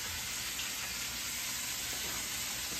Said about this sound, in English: I'm going to turn my pork chops.